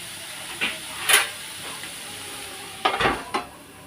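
Vegetables cook in a covered pan as part of an iftar meal. A soft background hiss is broken by a few brief clinks and scrapes of a lid and utensils against the pan, followed by a short sizzling flare near the end.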